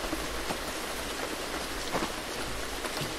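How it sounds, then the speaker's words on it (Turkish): Rain falls steadily in a horror video game, a dense, even hiss of drops with a few slightly louder spatters, continuous and unbroken, with no voices over it. "Felaket yağmur başlamış."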